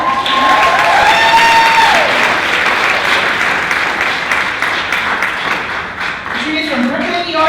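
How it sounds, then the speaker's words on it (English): An audience at a wheelchair pageant speech night gives sustained applause for a contestant, with a dense roar of clapping that slowly thins and a few voices surfacing near the end. "Give her a round of applause"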